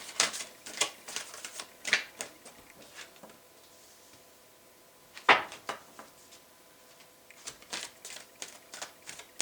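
Tarot cards from a Wisdom Oracle deck being shuffled by hand, rapid papery riffles and taps in uneven bursts, fairly quiet and close, with a louder slap midway.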